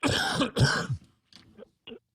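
Two rough, harsh coughs close to the microphone, followed by a few softer throat sounds and breaths.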